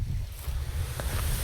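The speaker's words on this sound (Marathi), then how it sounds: "सोलरचं पाणी विहिरीत पडालंय, पाणी खूप वर आले." Water from a solar pump pours into a well on a farm. It sounds like a continuous, loud rushing splash, with wind buffeting the microphone.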